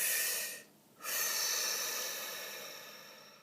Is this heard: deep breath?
yes